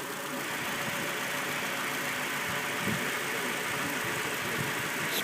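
A 2013 Scion tC idles with the clutch released, giving a steady, dense mechanical rumble and whirr from the transmission with faint irregular knocks, close and continuous, no talking.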